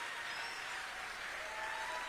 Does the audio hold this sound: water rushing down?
no